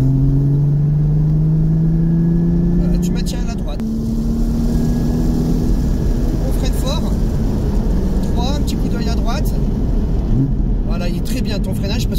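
A Porsche 981 GT4 on a race track pulls hard through its gears, its engine note rising in sweeping pitch climbs with shifts in between. An instructor speaks French over the loud, close cabin roar.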